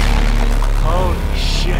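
Missiles launch in Call of Duty Infinite Warfare with a loud, deep whooshing boom in a single sustained rush, and a voice speaks over it.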